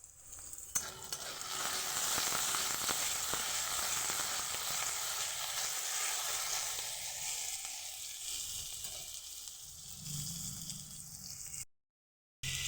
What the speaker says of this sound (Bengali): একদমই ভালোভাবে ভেজে নেবো, একদম লাল করে সুন্দরভাবে ভেজে তুলে নেব।